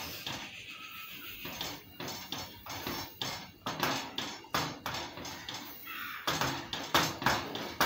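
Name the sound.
adding vermicelli bit by bit and stirring in a pan for kesari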